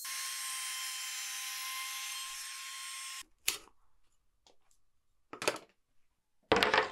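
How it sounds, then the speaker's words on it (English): A wood router with a bearing-guided bit whines steadily and loudly while taking shallow passes in wood, then stops abruptly, followed by a few short bursts of handling and cutting noise. "I'll keep the router moving using shallow passes and keep going until the bearing bottoms out"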